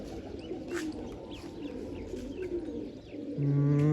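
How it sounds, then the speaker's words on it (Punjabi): Pigeons coo steadily from a rooftop, a string of low throaty calls close by, and the sound grows louder and fuller near the end. "ਛਤਰੀ ਤੇ ਕਬੂਤਰ ਆਇਆ ਬੈਠਾ ਸੀਗਾ"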